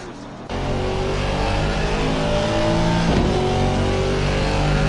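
Race car engine on a lap of Suzuka in a video game, a loud steady high-pitched engine note that climbs through the revs after a brief quiet start, continuous and close with no talking.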